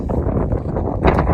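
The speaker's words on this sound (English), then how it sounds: "I can't get out of the wind, no matter where I go" Wind at a wild camp on Westmill Tor, a strong, buffeting roar battering the microphone in uneven gusts, loud and close, with a harder blast near the end.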